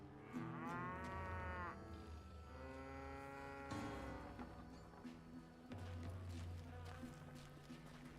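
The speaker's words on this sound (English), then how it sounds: "Cattle. Moo." Cattle moo in the Western shooter game Call of Juarez: Gunslinger, several long drawn-out lowing calls one after another over a steady buzzing of flies, with no talking.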